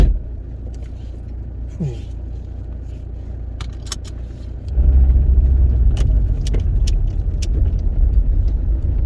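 A car is heard from inside while driving on the road: a low engine rumble with light rattles and jingles, swelling to a deeper, louder drone midway as it accelerates.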